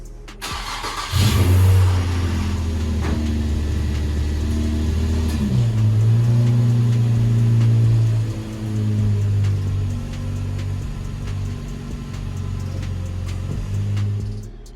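A car engine starts and idles with a steady low hum inside a garage, revving slightly as the car is moved back, then settling into a continuous rumble until the end.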